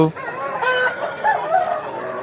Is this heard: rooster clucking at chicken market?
yes